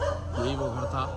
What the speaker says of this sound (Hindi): कुत्ते ही भौंक रहे हैं यहाँ पे रात में